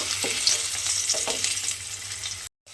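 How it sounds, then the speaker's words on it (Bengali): Fish frying in hot oil, a loud close crackling sizzle with a few stirring taps, cutting off abruptly near the end, no talk. "মাছটা তেলের মধ্যে দিয়ে একটু উল্টে পাল্টে লাল করে ভেজে নিতে হবে।"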